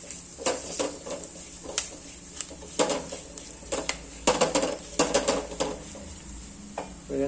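A spoon stirs meat masala in a metal pan, giving repeated scraping clinks at an irregular rhythm over a faint sizzle, close and moderately loud, with no talk.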